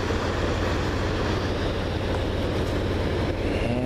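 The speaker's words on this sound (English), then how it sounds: "end of train device is going" A CN freight train rolls past in Ladysmith with a loud, continuous rumble and rhythmic wheel clatter, the tail end with its end-of-train device going by, and no voices over it.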